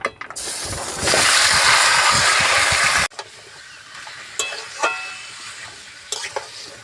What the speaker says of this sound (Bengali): তেল গরম হয়ে গেছে, আমি মটনগুলো ঢেলে দেব